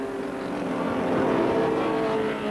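A Ford Sierra touring race car at Silverstone in the 1988 European Touring Car Championship RAC Tourist Trophy gives a steady, loud engine roar as it speeds past, with no voices.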